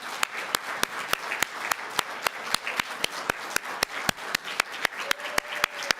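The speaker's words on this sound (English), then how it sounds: "So please stand up and let us give all health workers a very mighty clap" Applause for health workers at a World Health Assembly side event, a large audience giving a standing ovation, heard as a broad crowd of clapping with sharp, evenly spaced rhythmic claps standing out in steady time.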